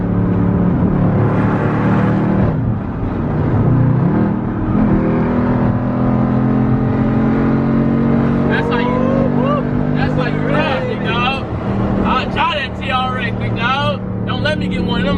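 A Ram TRX pickup's engine at a car meet rumbles and revs in a deep, continuous drone, with a voice talking over it through the second half.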